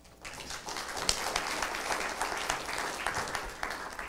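Audience applause welcoming a speaker onto the stage at a conference, a dense, steady clapping from a room full of people that swells quickly and holds for about four seconds.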